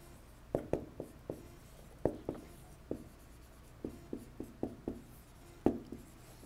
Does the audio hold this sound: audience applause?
no